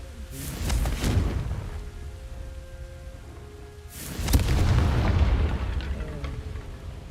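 Two heavy booming blasts from the Confringo fire spell in Hogwarts Legacy, each a loud low rumble that decays slowly into a hissing tail, the second fuller and longer, with faint ambient tones between.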